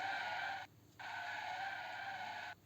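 Two sharp tire squeals from a car skidding as it turns through a junction in the Real Car Parking Master driving game, each a sustained screech lasting over half a second, separated by a brief quiet gap.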